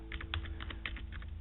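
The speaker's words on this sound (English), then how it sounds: "typing with one hand" Typing on a computer keyboard with one hand: quiet, close key clicks in an uneven quick rhythm, about a dozen taps in under two seconds, with no voices.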